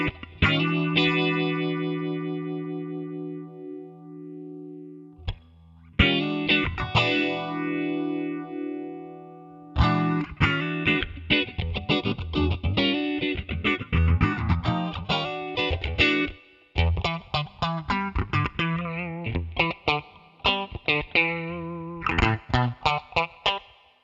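Electric guitar played through a NUX MG-300 on its Phase 90 phaser effect: sustained chords first, then choppy rhythmic strums with a sweeping, swirling tone, played alone with no talk.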